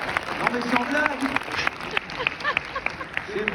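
Audience applause in a live comedy show, a crowd clapping in a scattered, moderately loud patter while a voice talks over it.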